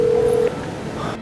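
A telephone emits a single steady tone for about half a second as a call is placed, followed by faint line noise before the signal cuts off.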